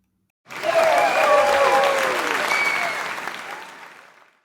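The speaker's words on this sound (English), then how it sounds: "Let's clap for him." Audience applause at an event in Ghana, a sudden loud burst of dense clapping with a few voices that swells quickly, holds steady, then tapers off and ends cleanly.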